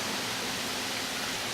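Water pours into a pot of chili meat with a steady, close rushing splash that lasts a moment without pause.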